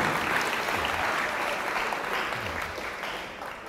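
An audience at a university reading-program speech breaks into applause, a broad, steady wash of many clapping hands heard at a distance, fading slightly toward the end.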